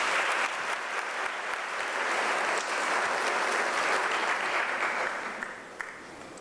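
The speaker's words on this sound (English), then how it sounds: "Can we give them a round of applause?" Sustained applause from a large audience at a university graduation ceremony, honouring the graduates' supporters; steady dense clapping that holds at full strength, then gradually thins and fades near the end.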